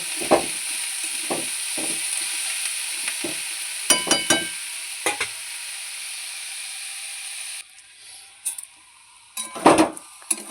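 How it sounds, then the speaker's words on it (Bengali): Beto shak greens fry in hot oil in a pan, a steady close sizzle broken by repeated scrapes and knocks of a spatula stirring, fading briefly before another clatter of stirring. "এবার আমি শাকগুলো দিয়ে দিচ্ছি দিয়ে এটাকে ভালো করে নাড়বো"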